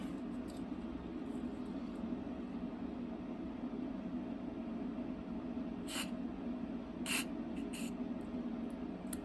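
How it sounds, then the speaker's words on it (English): An airbrush sprays cleaner in a steady, faint hiss that runs throughout, with a few sharp bursts of air near the end. "I'm going to clean this out manually with some airbrush cleaner."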